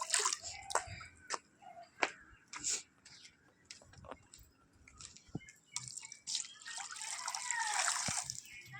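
Water is poured out for pigeons to drink, with scattered drips and splashes building into a fuller, continuous trickling pour near the end, close by and moderately loud.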